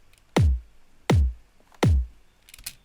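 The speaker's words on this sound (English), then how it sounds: "So I've got one set to kind of follow the 4/4 beat," Sidechain compression pumping to a 4/4 beat in a drum and bass production, heard as three evenly spaced loud kick-driven swells with a quieter fourth hit trailing off, alone without talking.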